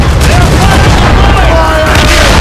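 Ship cannons firing during naval combat in Assassin's Creed Rogue, a loud continuous rumble of booming blasts that fills the whole stretch, with faint shouting voices mixed into the din.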